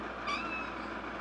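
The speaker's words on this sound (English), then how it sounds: "she just meows, and it's just, like, she's so vocal" A single short, vocal meow from a cat, close and clear over a quiet room background.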